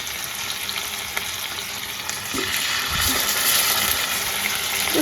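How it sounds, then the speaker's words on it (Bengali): Pieces frying in a pan to brown on both sides, giving a steady, fairly loud sizzle with crackling oil throughout, growing slightly fuller toward the end, along with a few soft stirring knocks. "এগুলোকে একটুখানি এটা একটু ভেজে নেবো দুপাশ কালার এসে যাবে"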